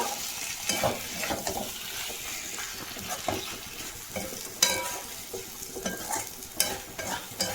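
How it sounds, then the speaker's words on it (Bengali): Ghugni being stir-fried in a pan, whole cooked peas going into oil, with an ongoing soft sizzle broken by scraping spatula strokes and occasional sharper clinks, moderately quiet. "আর একটুখানি কষি তবুও।"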